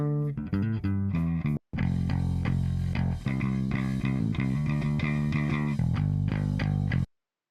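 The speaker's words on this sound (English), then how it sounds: "That distortion is doing a great job of helping that bass go up to another level" A gritty, distorted electric bass plays a driving line in the full band mix of a song, with a brief dropout near the start before cutting off abruptly.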